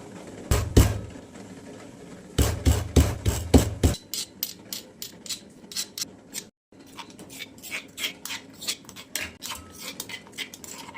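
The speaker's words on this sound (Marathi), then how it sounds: "कोथिंबीर पण टाकूयात बारीक करून नाही का, कुटून टाकू." Chopped coriander leaves are pounded for an egg dish, with sharp repeated knocks in quick bursts, loud and close, broken by a brief pause before the rhythmic thudding resumes; nobody speaks.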